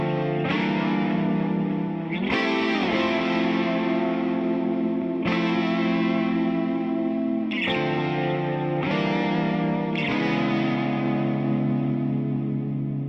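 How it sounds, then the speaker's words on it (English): A sustained lead guitar line on the neck pickup with a shimmering chorus effect and heavy vibrato, long singing notes struck one after another, loud and continuous with no talking. "So lots of vibrato all over those notes, neck pickup, all that stuff. And that is my guitar chorus."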